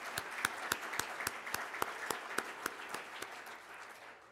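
Conference audience applauding in a large room, a steady wash of many hands with a few louder claps standing out, fading gradually toward the end; no talk over it.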